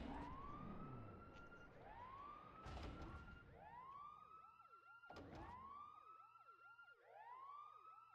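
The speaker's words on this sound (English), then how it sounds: "That siren doesn't get annoying, does it?" Repeating wailing alarm siren inside the Pokémon lab in Pokémon Colosseum, a video game, its rising sweeps cycling about every 1.5 seconds, loud and continuous with a few sharp bursts layered in and no talking.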